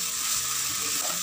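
Sugar being stirred into a sauce for chicken lollipop in a hot pan gives a steady, close sizzle with faint stirring underneath, brief and without any talk.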